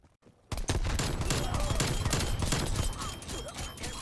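A 1911 pistol firing in Black Ops Cold War, a rapid loud volley of sharp gunshots bursting in after a brief quiet start, dense and close, tapering slightly toward the end.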